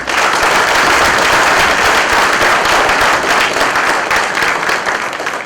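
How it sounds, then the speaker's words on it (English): Auditorium audience at an IEEE computational systems and information technology conference applauding, a dense, loud, sustained wash of clapping that holds steady for several seconds and eases slightly at the end. "A big round of applause."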